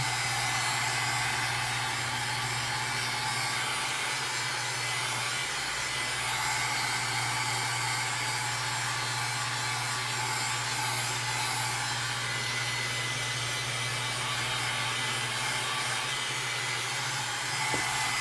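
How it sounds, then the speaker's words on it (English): A dryer drying chalk paste on a sign blows a loud, steady, close whoosh with a constant motor hum for the whole stretch, with no talk. "what I'm gonna do is dry it just a little bit"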